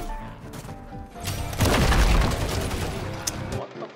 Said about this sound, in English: I'm literally shooting off my shots